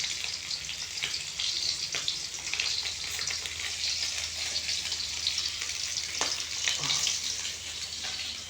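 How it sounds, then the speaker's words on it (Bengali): Hilsa fish frying in hot, splattering oil, giving a steady, dense sizzle with scattered sharper pops and crackles running throughout. "ইলিশ মাছ ভাজতে ভালো লাগতেছে, কিন্তু তেল ছিটে ছিটে আসছে"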